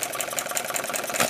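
A small model hit-and-miss engine runs steadily, giving a fast, even mechanical chatter with light rattling at moderate loudness.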